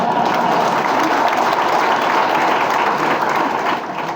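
A crowd claps loudly and continuously, a dense wash of applause that starts to taper off near the end.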